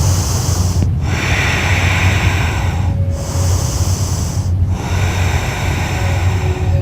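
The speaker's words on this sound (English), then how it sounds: "then just take deep full breaths" Deep, full breaths during a standing side stretch: a loud, close, steady rush of air with slow inhales and exhales, a few brief pauses between them and a faint hum underneath.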